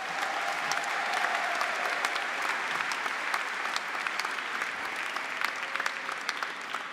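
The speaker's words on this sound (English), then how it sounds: "Give yourselves a round of applause." Sustained applause from a large audience at a new student convocation, dense, even clapping filling the hall for several seconds with no speech over it.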